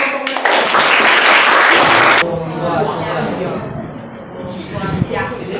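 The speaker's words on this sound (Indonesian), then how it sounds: "Aplaus untuk kelompok." A loud burst of clapping for a group after a classroom presentation, dense and close for about two seconds, then cutting off into quieter room noise and murmur.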